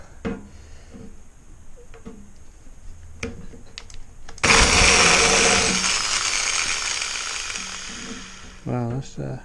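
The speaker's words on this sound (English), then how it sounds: "we're gonna stick it, drill it out." A few clicks and knocks, then a loud power drill whirs steadily for several seconds drilling out a part on a Lamborghini Countach kit car, and winds down, followed by brief squeaky noises.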